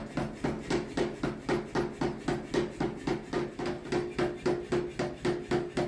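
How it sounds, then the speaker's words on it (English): Power hammer setting the welds in a hot layered steel billet for a Bowie knife, pounding in a fast, steady rhythm of about three heavy blows per second, each a loud metallic thud with a ringing tone, continuing throughout. "Let's pull it out and set the welds on the power hammer."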